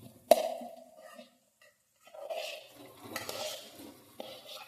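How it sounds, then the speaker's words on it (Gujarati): Cooked rice being tempered and stirred in a pan: a sharp metal clank, then soft intermittent scraping and stirring with short pauses, fairly quiet and close. "ભાત વઘારી કાઢીએ છીએ"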